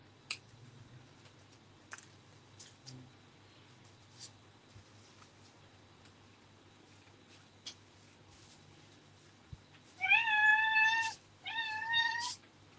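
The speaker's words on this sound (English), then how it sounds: "That is Madeline Meow, now whinging about going outside." A house cat meows twice near the end, loud and close, asking to be let outside; before that, only sparse faint clicks and taps in a quiet room.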